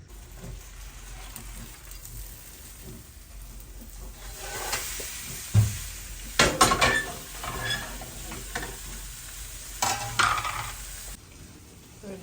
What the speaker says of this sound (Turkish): Şöyle ikinci tavayı da pişiriyorum